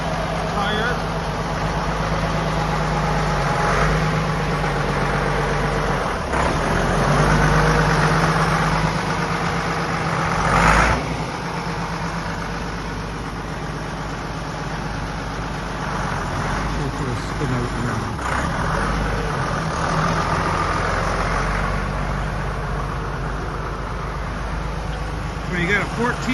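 A Deutz-Allis 7110 four-wheel drive tractor's engine idles steadily and close by for a long stretch at an Ontario auction, a low continuous rumble, with someone talking over it.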